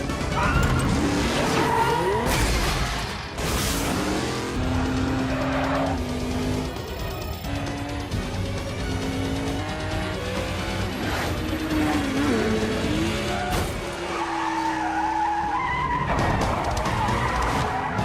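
Street race cars in a Vin Diesel action film skid through turns, loud close tire squeals and screeches sweeping up and down over revving engines, repeated without pause for the whole stretch.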